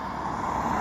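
A car speeds past on a country road near a northern town, a loud steady rushing roar close by with no voices.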